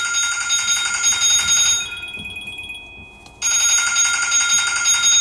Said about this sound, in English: the only time it rings, it's because it's a scam call